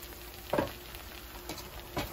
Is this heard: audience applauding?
no